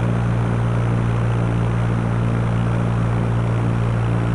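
The propeller engine of a light airplane in the Fly! II flight simulator drones steadily, a loud, constant buzzing hum with a low, even tone that holds unchanged throughout, with no talking.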